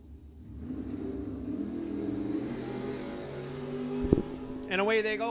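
Drag race cars launch off the line at a bracket race, a 95 Firebird among them, a loud sustained engine roar building steadily, with a sharp bang near the end and an announcer speaking over the last second.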